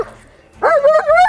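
An aggressive German Shepherd on a leash lets out a loud, close whimpering whine that rises into a strained, drawn-out yelp-like bark after a brief quiet pause.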